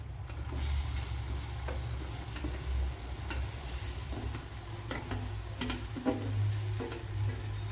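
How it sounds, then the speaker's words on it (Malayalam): Gooseberries tipped into a hot pan for pickle sizzle steadily and close by, with scrapes and taps of stirring breaking through the constant frying hiss. "ഇനി നെല്ലിക്കയെ തട്ടി കൊടുക്കാം"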